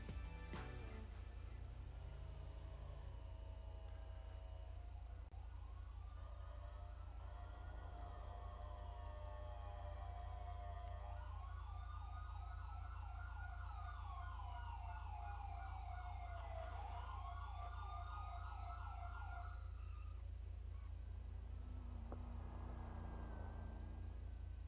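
An ambulance siren in a role-play game scene wails and yelps with rising and falling sweeps, faint and somewhat distant over a steady low hum, with no talk.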